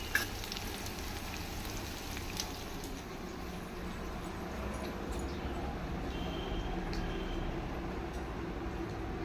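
Country chicken (natu kodi) frying in a pan with a light dose of chili powder. It gives a steady, even sizzle that runs unbroken throughout, close by, with no talking.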